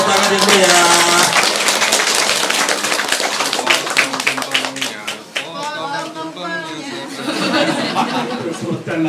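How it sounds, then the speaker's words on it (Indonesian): Audience clapping at an 80th birthday lecture celebration for a professor in Java, a dense burst of hand claps mixed with chatter and chuckles, loud and close, fading somewhat midway before swelling again. "Tepuk tangan dulu ya"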